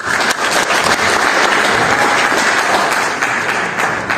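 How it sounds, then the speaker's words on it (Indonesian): Audience applause at a library socialisation session on social inclusion, a dense, steady wash of many hands clapping that stays loud and even throughout with no voices over it. "Tepuk tangan"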